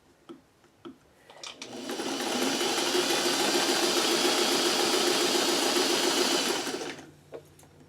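A sewing machine stitches a quilt crumb block onto muslin in one sustained, close run of about five seconds, a steady whirring buzz with a few light clicks before and after.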